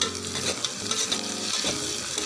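Whole garlic cloves sizzle steadily in hot oil in a pan for a Bangalore-style bisibele bath, with continuous frying crackle and a spoon stirring and scraping throughout, close and loud, no voices.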